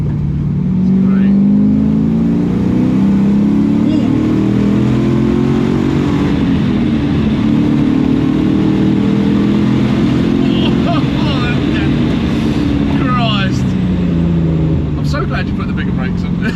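A Volvo 242 fitted with a Corvette LS V8 pulls hard through the gears, a loud, deep engine drone rising steadily in pitch from inside the car while people talk over it.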